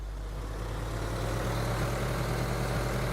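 A tractor engine in Farming Simulator 2013 drones steadily at a low idle from inside the cab, a constant deep rumble that holds level for the whole stretch with no talk over it.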